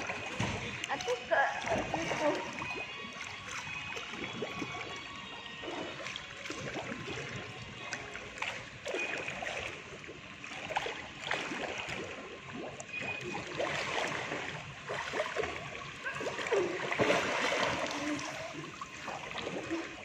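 A child swims in a pool, with irregular splashes and sloshing water rising and falling over about twenty seconds. Adults talk and call out throughout over the splashing.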